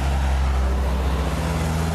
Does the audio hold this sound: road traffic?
yes